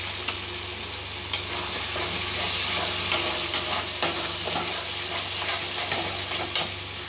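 A masala of spices, yogurt and Kashmiri chili powder fries and is stirred in a pan for a paneer kofta curry, giving a steady sizzle with scattered spatula scrapes and taps.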